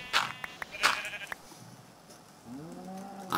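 A blocky Minecraft sheep lets out a single wavering bleat near the end, following a few scattered clicks and taps, fairly close and clear with no talking.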